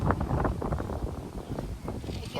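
Strong gusts blow across a high scenic viewpoint, a steady rumbling buffet of wind on the microphone that persists throughout, with a voice talking over it.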